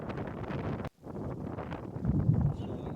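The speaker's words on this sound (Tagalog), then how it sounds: "medyo lumalakas hangin yung nakadanan" Gusty, strengthening wind on a fishing trip buffeting the microphone in rough, continuous rumbling bursts, with a brief dropout early on.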